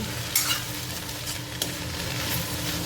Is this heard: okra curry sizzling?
yes